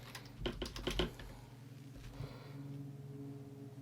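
Someone types a short search term on a computer keyboard, a quick cluster of close key clicks followed by a faint tap or two in a quiet room.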